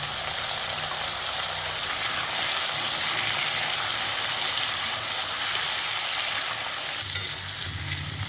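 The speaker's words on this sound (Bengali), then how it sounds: "এর মধ্যে আমি দিয়ে নেব কেটে রাখা আলুগুলো ও হালকা করে ভেজে নেব" Cut potatoes fry lightly with turmeric in a pan, giving a loud, steady sizzle close by with scraping stirs throughout and no voices.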